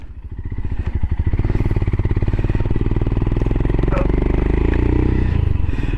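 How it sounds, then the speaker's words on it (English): A Royal Enfield Himalayan motorcycle engine thumps steadily through its exhaust, starting with distinct pulsing beats that quicken and blend into a continuous close, moderately loud drone as it revs and rides on. "I do like the sound of that exhaust, I do."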